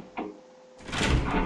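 A door opens in the Resident Evil 2 video game: a short click followed by a loud, broad creaking swing rising over the final second.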